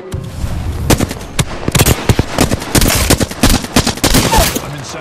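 Gunfire in the Apex Legends battle royale video game: loud, close bursts and single sharp shots in irregular clusters, with overlapping volleys and a steady background hum beneath.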